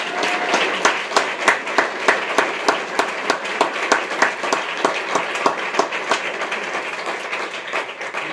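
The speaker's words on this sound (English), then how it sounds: "So let's give Chester one more round of applause" An audience at the Chester Pierce Stadium dedication gives a round of applause, many hands clapping loudly and steadily with crisp individual claps standing out over about eight seconds before slowly thinning.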